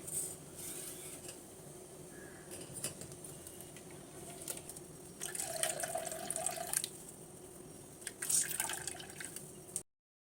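Coconut milk is squeezed and strained from ground coconut, with liquid trickling and dripping into a vessel in short bursts of splashing and patter, close and fairly quiet.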